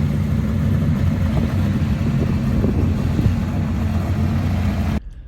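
A GV NASCAR-style race car with added power drives and drifts around the CAMS Acres track in Oklahoma, its engine a steady loud drone mixed with heavy wind buffeting for about five seconds before cutting off abruptly.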